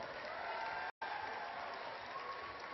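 Steady audience applause at a stage event greeting actress Priyamani, a dense clapping wash filling the hall with one brief gap before it continues at even strength.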